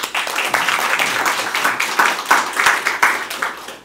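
Seminar audience applauding a speaker, a steady crowd clapping that swells and fades over a few seconds, with no talk over it.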